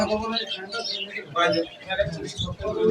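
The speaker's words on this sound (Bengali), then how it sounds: "শিলা কবুতর আর এগুলো হচ্ছে গিরিবাস" Several Shila and Giribaz pigeons coo and flutter close by in a cluttered pigeon and bird shop, overlapping calls over background bustle and murmuring voices.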